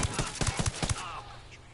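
A rapid burst of automatic gunfire in Ghost Recon Wildlands on PS4: about six loud, evenly spaced shots in under a second, then a fading echo and quiet game ambience.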